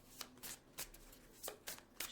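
Tarot cards are riffled and shuffled in quiet, quick papery bursts, about half a dozen flicks repeating at an uneven rhythm, close to the microphone.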